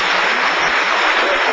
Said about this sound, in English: A tremendous applause for the Canadian champion